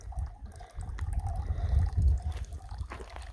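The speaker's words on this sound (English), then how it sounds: "Water flowing nicely." Water flows and trickles into a natural bathtub pool along the Arizona Trail, a close, uneven gurgling and splashing with soft drips that rise and fall in strength.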